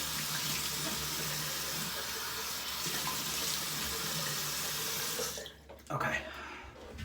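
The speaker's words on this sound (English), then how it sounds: "Let's go ahead and rinse off my face" Tap water runs steadily into a sink as a face is rinsed, a loud, even rush that breaks off briefly near the end with splashing before resuming.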